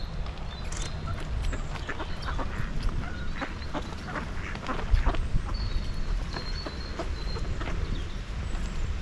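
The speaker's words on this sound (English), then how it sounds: "Ducks." Ducks quack and cluck intermittently by a lake, moderately near, over a steady outdoor rumble that sounds like wind.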